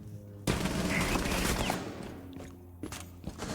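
Dense, continuous gunfire from a close-quarters engagement in Rainbow Six Siege, starting abruptly after a brief quiet and rattling on in loud overlapping bursts before tapering into a few scattered shots.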